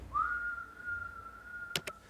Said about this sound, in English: it's the whistling kettle, and when it boils, it starts calling your name